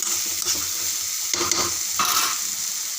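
A spoon scrapes and stirs through food sizzling in a pan, with a steady frying hiss and a few louder scraping strokes, no voices.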